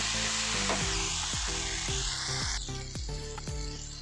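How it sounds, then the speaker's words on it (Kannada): Garam masala spices frying in a pan give a loud continuous sizzle, with a regular series of low scraping knocks from stirring throughout. "ತುಂಬ ಚೆನ್ನಾಗಿ ಫ್ರೈ ಆಗಿದೆ"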